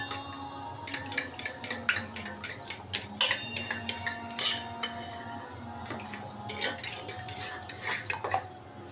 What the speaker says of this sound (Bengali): তারপরে একটু লবণ, হলুদের গুঁড়া, মরিচের গুঁড়া দিয়ে এখন একটু ফেটাই নেব